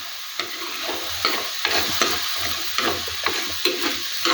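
Kachupuli curry base sizzles with salt in a pan, a constant bright frying hiss broken by repeated scraping stirs of a spoon, close and alone.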